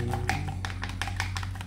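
A chopstick taps rapidly against a cup while stirring powdered drink mix with a little water, a close series of sharp, quick clicks over a low background hum.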